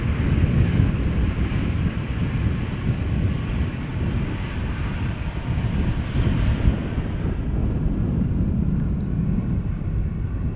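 A Boeing 737 airliner at Amsterdam Schiphol Airport gives off a continuous, loud jet roar heard up close, steady throughout with wind buffeting the microphone.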